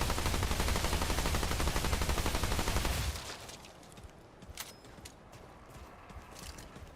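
SMG fire in the video game Remnant 2 rattles in one loud continuous automatic burst lasting about three seconds, then cuts off into quiet with faint clicks and small mechanical taps.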